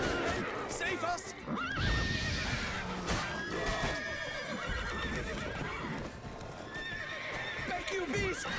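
Horses in The Witcher 3: Wild Hunt whinny and neigh repeatedly amid clip-clopping hooves, loud and close, with frantic shouting voices layered over the animal sounds throughout.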